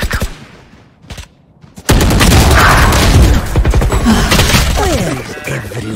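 A grenade explosion in a Valorant match between NRG and DOWNBAD slams in loud after a quieter stretch, followed by a dense, sustained burst of crashing impacts and gunfire-like clatter with voices mixed underneath.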